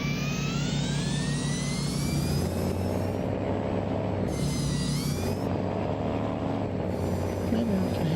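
Modded Battle Truck engine in American Truck Simulator drones steadily at a loud, constant pitch, with a high whine riding above it and brief tonal shifts in the upper range, no talking.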